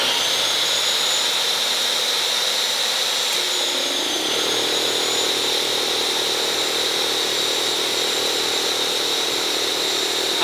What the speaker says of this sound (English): I'm running a 2-horsepower air compressor and a table saw both off of 1 power inverter.